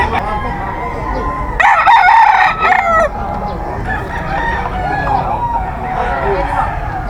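A bull stag rooster crows loudly and close at a gamefowl market in Bocaue, one sharp crow followed by softer clucking and crowd chatter, with people talking nearby.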